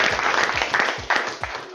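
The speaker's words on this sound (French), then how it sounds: "Un applaudissement pour les deux équipes." Toastmasters debate audience clapping for both teams, a short burst of close, dense applause with distinct hand claps, and a voice briefly audible underneath.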